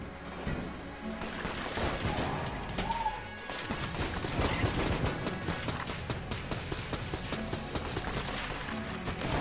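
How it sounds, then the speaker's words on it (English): Wind-up gun firing in the Enter the Gungeon video game, a steady stream of rapid shots and impacts over busy game music and effects, continuous and fairly loud throughout. "Let's use the wind-up gun, which is full."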